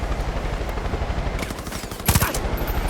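A helicopter-mounted machine gun firing in Far Cry 5, a steady rapid rattle of shots under a constant rotor-like drone, ending in a louder, closer burst.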